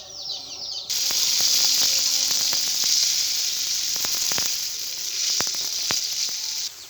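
Spicy pitha cakes frying in hot oil give a steady, close hiss of sizzling, dotted with sharp crackles and pops throughout, with no talking.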